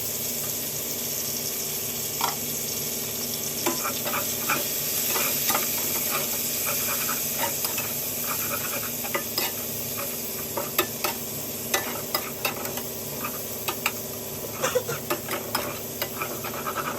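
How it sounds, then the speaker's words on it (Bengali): Onions and tomatoes fry in a pan for paneer, giving a steady sizzle with scattered sharp crackles and occasional stirring clicks, with no talking. "আর দিয়ে ভালো করে ভেজে তারপর আমি দেবো সেইখানে মশলা"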